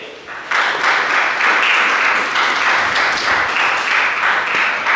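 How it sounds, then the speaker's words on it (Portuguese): Church congregation applauding together, a dense, steady wash of clapping that swells after a brief quieter start and holds loud and even throughout. "Vamos aplaudir o Senhor, amém?"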